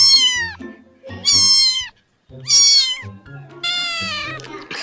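A cat meows four times in a row, clear and close, each call a drawn-out tonal wail with short gaps between them.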